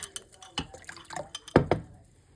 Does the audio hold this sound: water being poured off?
yes